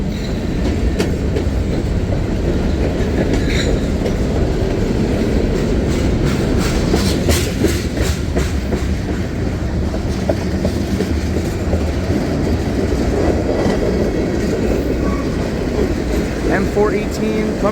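A CSX mixed freight train rolls westbound close by, a loud steady roar of wheels and cars with rhythmic clickety-clack and occasional faint squeal throughout.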